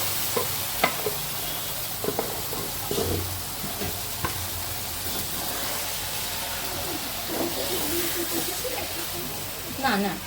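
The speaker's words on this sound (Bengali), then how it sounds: "মাংস দিয়ে দেওয়া হচ্ছে তেলের মধ্যে" Duck meat fries in hot mustard oil in a pan, giving a continuous close sizzle with stirring scrapes and clinks throughout, while people talk faintly in the background.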